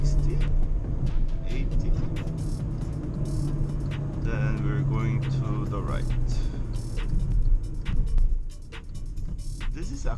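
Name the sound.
2021 Kia Stonic 1.4L automatic accelerating through gears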